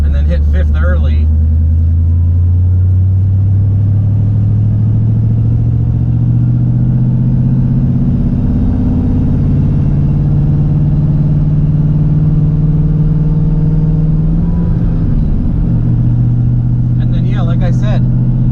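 An Infiniti G35 cruising in fifth gear at around 1800 RPM, its engine a loud, steady, low droning hum that shifts slightly in pitch, with a person talking over it.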